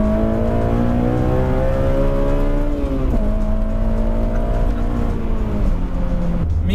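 A Honda S2000's new engine runs loudly up close, its tone climbing and dropping as it is revved several times.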